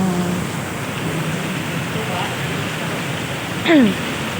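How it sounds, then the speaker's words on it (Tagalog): Steady heavy typhoon rain hisses continuously, a dense wash of noise, with a brief faint voice-like chirp near the end. "ang tunog ng ulan. Bagyo na, bagyo, bagyo."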